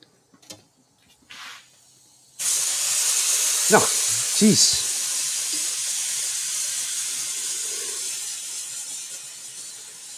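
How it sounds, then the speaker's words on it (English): An air compressor's drain valve bursts open with a loud, steady hiss of escaping air that runs for several seconds. A few soft knocks come before it, and a person mutters briefly over the hiss. "What you can hear there is the air compressor draining itself."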